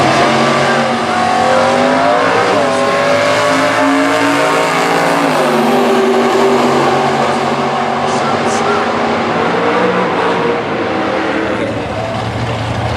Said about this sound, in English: the 67 GTO, 540 Chevy under the hood, going up against Jackson Collier